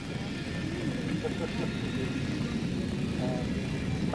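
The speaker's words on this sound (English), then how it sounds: "Following a short engine run-up, Flight 363 commenced takeoff." Air Ontario airliner engines roaring steadily during a takeoff roll, a broad continuous drone with a constant level throughout.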